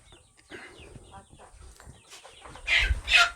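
Chickens on a poultry farm cluck and cackle in short scattered bursts, with a louder pair of squawking calls near the end over faint background farm noise.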